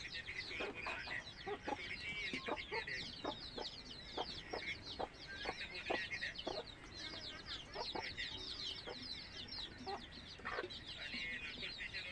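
Free-ranging hens with their chicks clucking steadily with short repeated calls and a few sharper squawks, fairly close, filling the whole stretch without talk.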